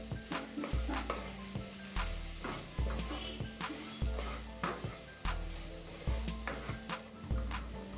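Spring roll stuffing of cabbage with turmeric, mashed boiled potato and pepper powder is stirred in a pan, a steady sizzle and frying hiss broken by repeated scraping strokes of the spatula at a regular rhythm.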